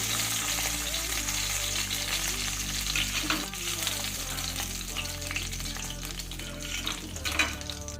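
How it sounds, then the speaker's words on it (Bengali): Bhola fish frying in hot oil gives a steady, dense crackling sizzle throughout, close and continuous, with occasional utensil scrapes and a low hum underneath. "একইভাবে আমি বাকি দুটো মাছও ভেজে নেব"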